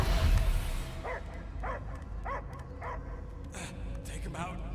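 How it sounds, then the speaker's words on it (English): In Marvel's Guardians of the Galaxy video game, a dog barks in a rhythmic series of about seven sharp, evenly spaced barks over a low rumbling ambience, preceded by a brief voice. "I hear only barking."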